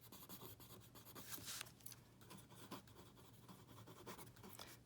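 Chalk or marker scratches across a board during a math lecture, faint irregular strokes and taps in a quiet room.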